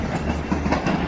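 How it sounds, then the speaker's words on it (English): A UP Express airport train, running from Union Station toward Pearson Airport in Toronto, rumbles past close by as a steady, loud roar of wheels on rails. "And there's the train."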